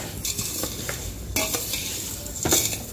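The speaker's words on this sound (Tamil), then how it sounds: "அதனால் லைட்டாக வறுத்துக்கங்க." Health mix ingredients being lightly roasted in a pan, with a soft continuous sizzle and intermittent scraping and stirring clinks of a utensil against the metal, close and moderate in level.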